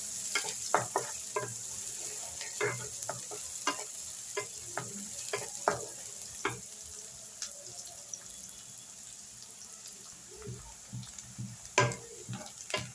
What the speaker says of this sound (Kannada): ಇವಾಗ ಈರುಳ್ಳಿ ಮತ್ತು ಹಸಿಮೆಣಸಿನ್ಕಾಯಿ ಹಾಕಿದ್ದೀನಿ ಇದು ಸ್ವಲ್ಪ ಚೆನ್ನಾಗಿ ಫ್ರೈ ಮಾಡ್ಕೊಳ್ಳೋಣ